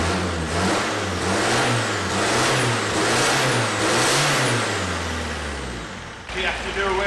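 A van engine, saved from the crusher during a rebuild, revs up and down in loud, sustained surges, its pitch rising and falling several times before cutting off sharply near the end.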